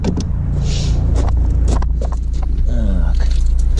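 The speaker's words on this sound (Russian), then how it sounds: "Сейчас едем на драйв-тест." A 2000s Opel Astra with a 1.7 CDTI diesel engine, suffering a loss of power, drives off on a test drive, its steady engine rumble heard from inside the cabin along with some clicks and movement.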